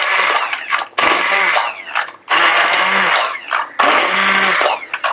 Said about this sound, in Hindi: With hand blender.